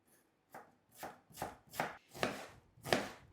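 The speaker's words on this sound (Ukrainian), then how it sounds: "цибулю для борщової я заправки нарізаю кубиком" Six sharp knife chops dice an onion on a cutting board in a steady, quickening rhythm, close and clear, with no talking.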